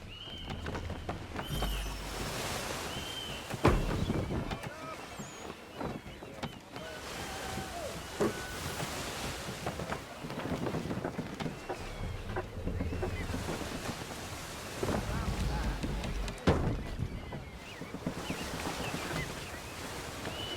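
A sailing ship glides through shallow water in Assassin's Creed III, with a steady wash of water and wind around the hull and occasional creaks and thumps. No one speaks.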